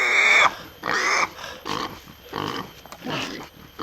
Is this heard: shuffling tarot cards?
no